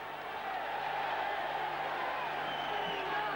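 Boxing crowd at a 1984 fight between Jimmy Cable and Said Skouma, a steady roar of cheering and whoops that holds loud and continuous throughout, with commentary-like voices mixed in.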